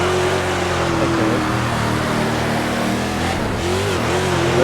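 A sprint car engine in the World of Outlaws racing game, on a dirt speedway such as Eldora or Port Royal, drones loud and constant with pitch rising and falling as it revs.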